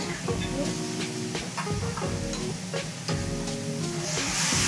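Kobe wagyu beef sizzles and crackles steadily on a hot steakhouse grill, a dense close-up frying hiss with stirring clatter and people talking over it.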